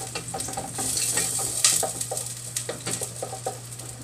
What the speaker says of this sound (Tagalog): Idadagdag na rin natin si sibuyas.